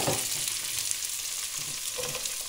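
Chopped onion sizzles in a hot pan as shepherd's pie is cooked, a steady broadband frying hiss lasting throughout with a few soft stirring bumps, close and fairly loud, no talking.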